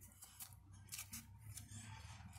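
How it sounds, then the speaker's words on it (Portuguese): Scissors snip and slide through the plastic packaging of a miniature model car kit, several short close cuts in quick succession, quiet and with no talk. "Para abrir é fácil, só cortar aqui"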